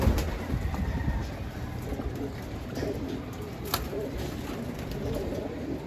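Racing (SDR) pigeons coo softly in a loft amid a steady wash of background noise, their calls low and continuous rather than loud.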